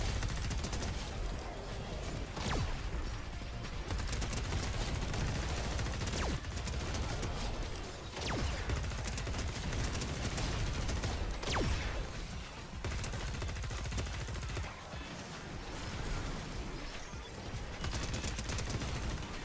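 Rifle gunfire in a shooter-style video game goes on as dense, steady bursts of automatic fire and explosions for about twenty seconds, loud and continuous with no clear breaks.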